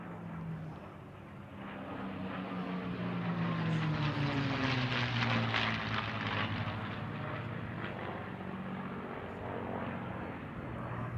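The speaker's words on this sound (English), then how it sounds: "Nothing sounds like a P-51" A P-51 Mustang propeller fighter roars past at high speed along an airshow line, its loud, continuous engine drone rising and shifting in pitch as it passes close by, with no talk.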